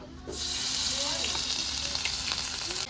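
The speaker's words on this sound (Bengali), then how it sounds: "তাতে এই যে রসুনটা প্রথমে দিয়ে দিচ্ছি" Garlic fries in leftover fish oil in a kitchen pan, giving a steady, dense sizzle that starts abruptly and runs on evenly and close up.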